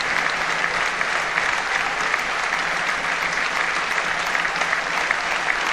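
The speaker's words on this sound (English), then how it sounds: "the minute applause for the lifelong fan" A football ground's crowd gives a sustained minute of applause for a lifelong fan at Chesterfield versus Gateshead, a dense, even clapping that holds steady throughout without letting up.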